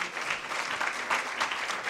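A symposium audience claps for panelists, a brief, dense ripple of applause that stays even and moderately loud.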